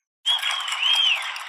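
Applause breaks out suddenly in a hall of students in a Harry Potter and the Goblet of Fire film scene, a dense steady clapping that holds at an even level after starting from silence.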